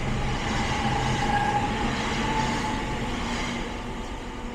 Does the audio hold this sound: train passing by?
yes